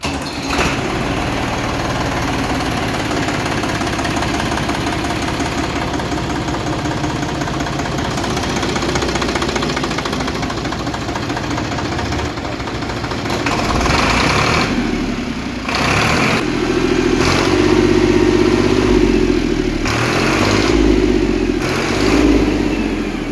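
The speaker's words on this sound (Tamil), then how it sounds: "இந்த வண்டியோட இன்ஜின் ரன்னிங் வீடியோ" A SAME 503 tractor engine runs steadily at idle, a loud, continuous diesel rumble that deepens slightly toward the end, with no voices.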